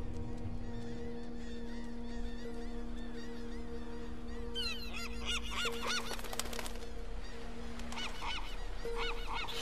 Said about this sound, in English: Seagull.